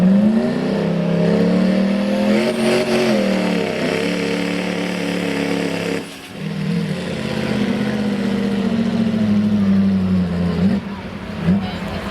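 Diesel pickup engine revving hard and steadily under load during a truck pull at a diesel powerfest, loud and sustained with a brief dip midway, crowd voices faintly underneath.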